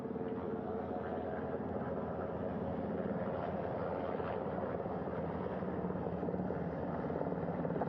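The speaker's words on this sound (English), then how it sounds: "The first helicopter coming in." A helicopter carrying Artemis II crew approaches and hovers over a ship's flight deck, its rotor a faint, continuous droning whir heard from across the bow.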